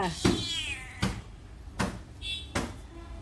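A cat being fed fish meows four times, each call loud, close and evenly spaced about a second apart, with faint handling noises in between and no clear talk.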